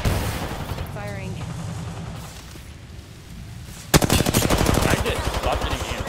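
Rapid automatic gunfire erupts in a shooter video game, loud and sustained after a stretch of quieter game ambience, with a player's voice talking briefly beforehand.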